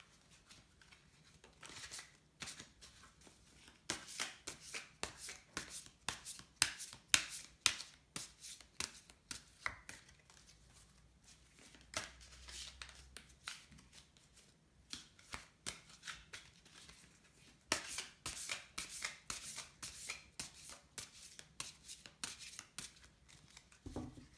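A deck of oracle cards is shuffled by hand in a quiet room, giving repeated soft, crisp bursts of flicking and riffling with short pauses between them. No one speaks.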